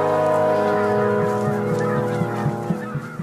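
Geese on the Arctic tundra give loud, close honking calls, a rich harmonic blare followed by a series of shorter, rhythmic honks as the calls taper off.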